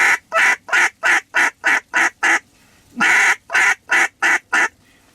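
A duck call blown with its tone board turned sideways gives two quick runs of loud, evenly spaced honking quacks. A first burst of about nine notes is followed by a short pause and a second burst of about six, all close and clear.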